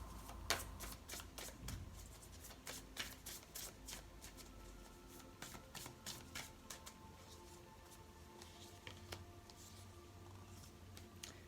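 A Quantum Oracle card deck being shuffled close up, giving quick riffling flutters and soft card slaps in bursts that thin out toward the end, quiet and with no talking.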